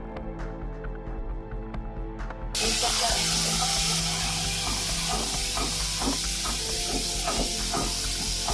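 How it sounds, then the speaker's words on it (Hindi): Ginger garlic paste drops into a pan of browned onions and sets off a loud, steady sizzle and hiss that carries on after a quieter stretch of kitchen sounds. "अब हम इसमें अदरक लहसुन का पेस्ट डालेंगे।"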